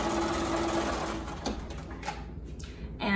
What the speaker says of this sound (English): So I'm just gonna sew these together so you guys can see.